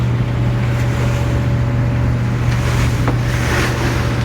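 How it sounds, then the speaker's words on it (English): Steady rush of water wash as a boat hull cuts through rough seas on the open ocean run from Wrightsville Beach to Beaufort, with a constant low engine hum underneath and occasional louder splashes, continuous and close. "And you hear the background, you hear all the wash"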